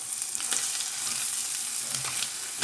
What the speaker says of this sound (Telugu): మొత్తం అంతా కూడా కలిసేలాగా స్లోగా కలుపుకోవాలి